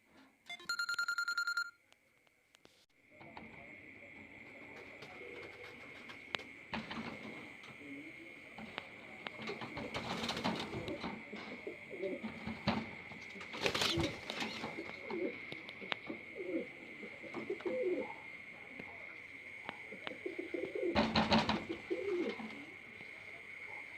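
Pigeons coo in a loft, soft throaty calls repeating continuously at close range, with a brief series of electronic beeps at the start and a few sharp clatters and handling knocks scattered through.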